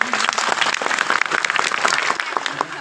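Audience applause at a political rally, dense steady clapping from a large crowd, loud and continuous through the short stretch.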